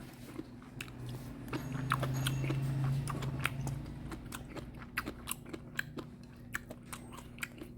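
Someone chews mustard-leaf kimchi (gat kimchi) at a Gwangju restaurant, with close, crisp crunches and bites in an irregular rhythm over a low background hum.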